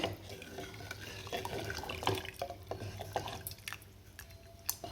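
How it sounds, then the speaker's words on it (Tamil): Finger millet porridge is stirred in a clay pot: wet stirring and scraping, with watery sloshing and small clinks repeating steadily throughout, close by. "அப்படியே கிண்டிக்கிட்டே இருக்கணும் அடி பிடிக்காமல்"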